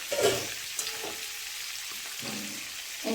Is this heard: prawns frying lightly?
yes